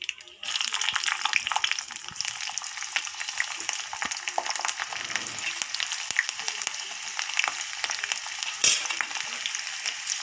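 Mustard seeds, cumin and garlic fry in hot oil, producing a continuous crackling sizzle with scattered pops, fairly close and steady for the whole stretch.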